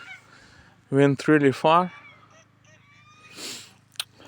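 Farm geese give three loud, close honking calls in quick succession, followed by a quieter rustle and a brief faint sound; a person speaks a few words softly.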